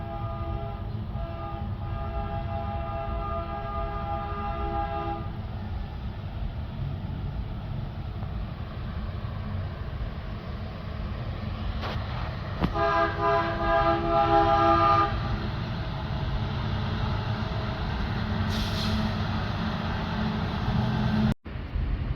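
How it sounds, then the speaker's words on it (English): A train passes through Ironton, Ohio, its horn blaring in long sustained blasts over a steady low rumble of rolling cars, loud and near, with another horn burst later and a sharp clunk near the end. "always be mindful of trains."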